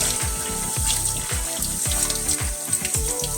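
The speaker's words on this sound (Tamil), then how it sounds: "மட்டனை தண்ணி வச்சு தண்ணியில் கழுவிட்டு நல்லா மட்டனை" Water runs steadily from a tap while mutton is washed in a kitchen, with a constant splashing rush and small irregular knocks, and no voices.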